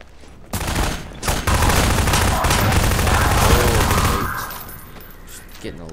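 Submachine gun fire in the video game Half-Life 2: Lost Coast rattles out in a loud, sustained burst lasting several seconds, with a short break near the start, heard on its own.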